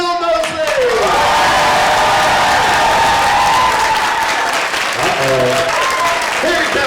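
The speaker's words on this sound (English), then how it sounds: "Big round of applause, Bill Moseley!" A crowd of fans at a Texas convention Q&A applauds Bill Moseley's arrival, steady loud clapping with whoops and cheers throughout, while music tones ring under it and a voice briefly calls out near the end.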